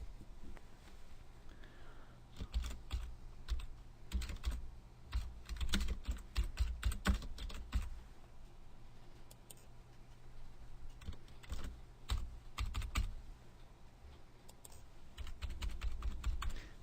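Information typed on a computer keyboard into a user portal website: irregular bursts of close clicking keystrokes with short pauses between runs, and no talking.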